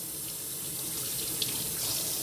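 Cold water runs steadily from a kitchen tap while homemade butter is rinsed, a continuous broadband hiss with a slight rise toward the end and no voices.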